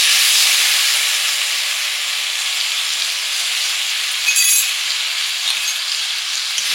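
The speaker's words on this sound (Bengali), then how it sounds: "এবারে একটু জল দিয়ে মশলাটা কষে নেব।" Spice paste for a Bengali ghugni dinner sizzles after a splash of water is added, giving a loud, steady hiss that holds for the whole stretch with only slight swells.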